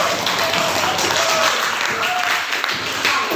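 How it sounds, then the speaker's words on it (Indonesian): Students in a classroom clap together, a steady wash of applause close by, with faint voices mixed into the clapping. "Ya, tepuk tangan untuk kita."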